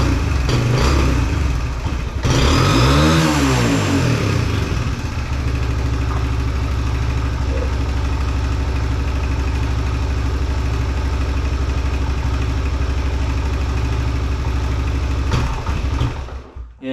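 A 2021 Suzuki DRZ 125 motorcycle engine with suspected carb jetting or valve trouble idles steadily up close, with a brief rev near the start that rises and falls before settling back into a continuous loud idle.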